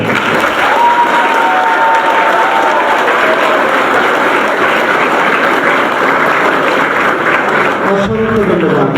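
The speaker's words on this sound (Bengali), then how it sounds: "তাদের জন্য ডাবল হাততালি" A packed university hall gives a standing double round of applause for three SAF-winning women footballers, loud dense clapping with cheers that holds for about eight seconds before cutting off, with a voice briefly heard near the start.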